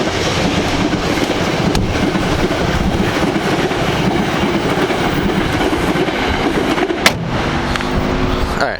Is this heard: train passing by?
yes